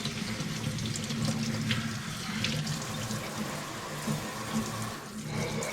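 A kitchen tap runs steadily as sandy vegetables are rinsed for chickpea and chorizo soup, a constant close splashing rush of water with small shifts in the spray throughout.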